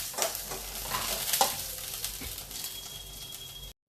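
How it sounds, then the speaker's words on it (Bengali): Lentil fritters fry in hot oil in a wok, a close, steady sizzle with a few scraping stirs and soft clinks, no talking. "বড়াগুলো দেখুন আমার ভাজা হয়ে গেছে।"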